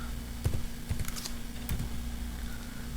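Someone types a short command on a computer keyboard, a few close, light key taps in a small cluster against quiet room hiss.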